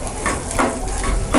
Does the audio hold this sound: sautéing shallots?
yes